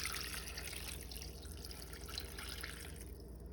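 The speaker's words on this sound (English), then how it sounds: "Now I'm gonna start adding my water." Cold water pouring into a cooking pot, a faint steady splashing trickle that runs continuously without a break.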